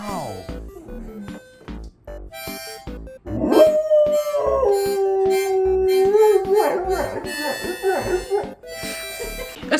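A dog howls along to a child playing harmonica, with short harmonica notes at first and then a long, wavering, rising and falling howl that carries the rest of the way, loud and close.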